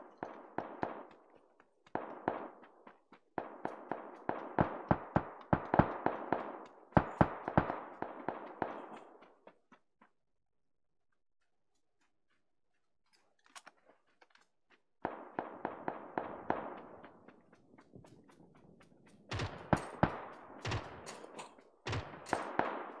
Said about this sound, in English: Two bots shooting at each other.